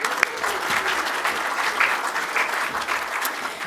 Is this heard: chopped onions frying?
no